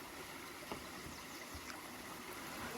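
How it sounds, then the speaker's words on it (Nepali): Cold waterfall water rushes and splashes in a steady, close wash of sound that fills the whole moment without pause. "झरनाको चिसो पानी"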